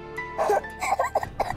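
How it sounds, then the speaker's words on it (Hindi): Short bursts of a child coughing indoors, several rough hacks in quick succession, close and fairly soft. "आपको तो खांसी हो रही है"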